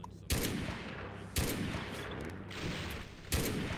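A tank gun in the game Mud and Blood fires three heavy shots, each a sharp loud boom trailing into a rumbling decay, spaced about a second or two apart, with no talk.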